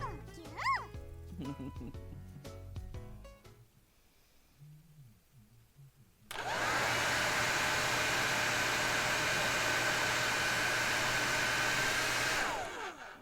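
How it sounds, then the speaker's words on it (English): A hair dryer from the Cafe Enchante video game starts abruptly after quieter music and blows with a loud, steady rushing hiss until it stops near the end. "Yeah, hairdryer, come through."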